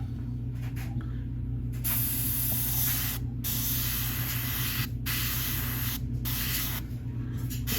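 MRP paint airbrushed as a first coat onto a Tamiya 1/48 F-14A Tomcat model, a loud steady spray hiss in several long bursts separated by brief pauses, close and without talk.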